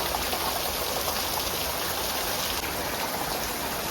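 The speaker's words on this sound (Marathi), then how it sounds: "सकाळपासून फुल जोरान पाऊस पडतो." Heavy rain falls steadily, making a continuous, even hiss with no pauses and no voices.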